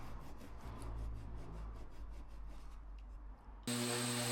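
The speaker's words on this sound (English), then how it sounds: "just trimming them back and just going in with more sanding, getting everything nice and flush" Hand sanding a wooden plank to get trimmed pieces flush: steady, close rasping strokes in a continuous rhythm, ending abruptly with a switch to a different, steady tonal sound.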